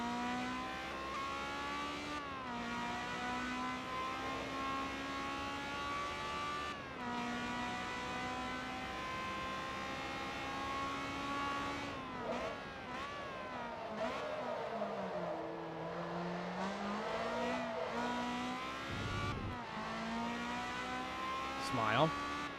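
A high-revving Ferrari 355 race car engine in the video game Forza Motorsport 2 whines steadily, pitch rising and dropping through gear shifts, with tires squealing briefly near the end.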